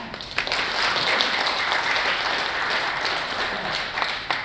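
A studio audience at a health talk show on sleep apnea bursts into applause, with a few sharp claps at the start before a thick, steady wave of clapping that holds at full strength, then thins slightly near the end.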